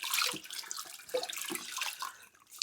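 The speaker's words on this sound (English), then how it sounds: "you rinse your rag," A cloth rag is rinsed and sloshed in water while cleaning a Xiaomi electric scooter, giving busy splashing and dripping with a few soft thuds, close by and steady for several seconds.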